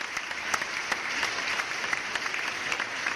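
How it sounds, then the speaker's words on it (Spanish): An audience applauding the teams at a televised youth debate in Panama, steady even clapping throughout, fairly distant and moderate in level with no voices. "pido un aplauso para estos excelentes planteamientos de nuestras"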